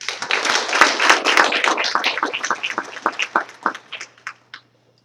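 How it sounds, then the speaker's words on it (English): Audience applause at a school board meeting, a dense burst of clapping that thins out into scattered individual claps before stopping, fairly close and loud. "Let's give another big round of applause."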